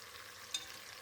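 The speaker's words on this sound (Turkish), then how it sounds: "Güzelce bunları biraz kavurayım." Quiet, steady sizzling of onions and vegetables sautéing in a pan, with a single brief clink of a utensil partway through.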